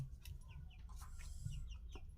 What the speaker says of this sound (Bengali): ফের চলে এসেছে মুরগিকে